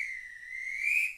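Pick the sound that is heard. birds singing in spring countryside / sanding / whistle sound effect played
whistle sound effect played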